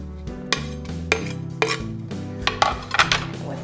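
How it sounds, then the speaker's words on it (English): Chunks of garlic tossed into a cooking pan with clattering metallic knocks and scrapes, several sharp hits over a steady low kitchen hum, no voices. "So I'm just going to throw this in the pan."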